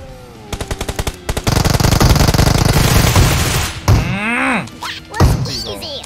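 Rapid bursts of gunfire from a shotgun in a battle royale video game, a quick run of sharp shots followed by a dense barrage of blasts, with sweeping effect sounds near the end.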